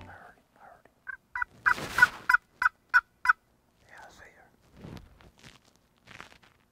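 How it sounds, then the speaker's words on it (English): Wild turkey gobblers gobble in a canyon near Chama, New Mexico, giving a quick run of about six loud, rattling gobbles in a row. Fainter rustling footsteps and soft whispering follow in a quiet outdoor setting. "They're coming up, they're gobbling. You can hear them coming the whole way."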